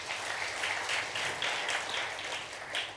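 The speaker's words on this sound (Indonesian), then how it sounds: "Tepuk tangan buat Yesus." Church congregation applauding during an evening prayer service, a steady wash of distant clapping sustained throughout, with no voices standing out.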